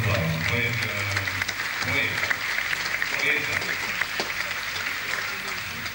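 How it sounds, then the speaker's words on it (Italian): Audience applause for a guest introduced on stage at a 1979 concert in Trieste, a steady dense clapping that holds for the whole stretch with crowd noise underneath. "un grosso applauso"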